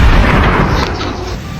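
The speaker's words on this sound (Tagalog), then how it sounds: "May narinig akong putok ng baril." A sharp, loud gunshot-like boom opens the moment and decays into a rumbling tail over the next second and a half, with no voices heard.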